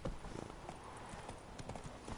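Roach, Geralt's horse in The Witcher 3: Wild Hunt, gallops in a steady rapid clip-clop of hooves, moderately quiet and unbroken, with no voices over it.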